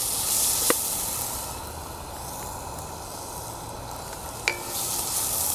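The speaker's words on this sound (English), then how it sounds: "it's been about 3 minutes sauteing these onions and tasso" Onions and tasso sauteing in olive oil in a pan, a steady soft sizzle and hiss throughout with a couple of brief clinks, close and alone with no voices.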